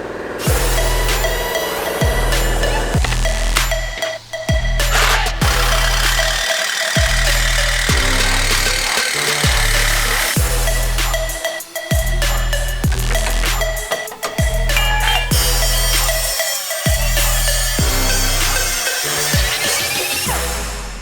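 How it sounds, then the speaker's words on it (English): A Sawzall reciprocating saw cuts behind the front bumper of a Jeep JL Wrangler, running loud and close in repeated bursts with short pauses between strokes, metallic ringing over a heavy low buzz. "I've got a Sawzall. I think that's what I'm going to use instead."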